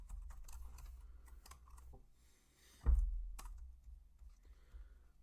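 Soft keystrokes on a computer keyboard while coding in R, a scattered run of light, close clicks with one heavier thud midway, quiet and without talk.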